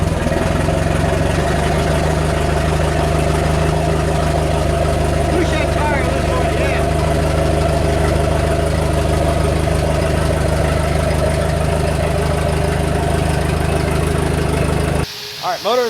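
A forklift engine idling steadily with a hissing, humming drone while unloading a 451 Mopar stroker motor, continuous and fairly loud, with people talking over it before it cuts off at the end.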